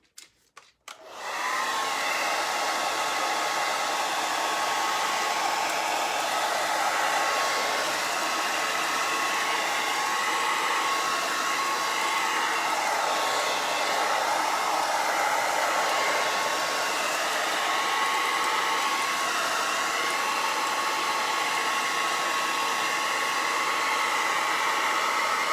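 A hair dryer blows steadily at close range for the whole stretch, switching on with a short click and rush and then holding an even, loud whooshing whine with a faint tonal hum, no voices over it.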